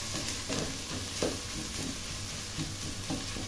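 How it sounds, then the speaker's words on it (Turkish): Minced meat, onion and pepper paste sauté in a pan for a Turkish cabbage dish, giving a quiet, continuous sizzle with faint, scattered stirring scrapes and no voices. "kıyma ve soğanla salçayı da güzel bir şekilde kavuruyoruz"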